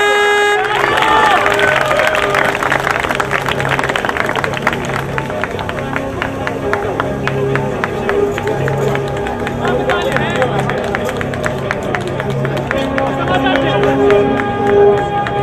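Crowd applause and hubbub at a 2007 Athens university league awards ceremony, honouring the electrical engineers' team; dense, steady clapping mixed with crowd noise and a few cheers runs loud throughout.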